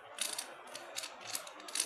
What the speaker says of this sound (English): So I will just shuffle the whole cube,